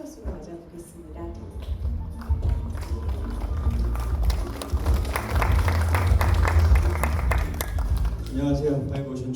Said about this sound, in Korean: 큰 박수로 맞아 보겠습니다